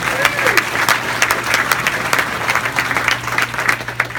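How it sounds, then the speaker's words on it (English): Loud, dense applause from a corporate event audience fills the room steadily, with a low steady hum beneath and faint voices mixed in. "Round of applause for national record in the song"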